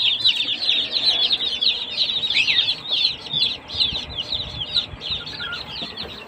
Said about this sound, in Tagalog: safe na safe ang ating alagang sisiw